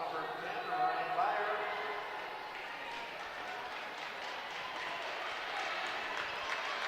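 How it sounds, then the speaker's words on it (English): A crowd applauds steadily at a girls' high school basketball game in a gym, the clapping moderately distant, with an announcer's voice talking over it. "A round of applause for the Mound player came out."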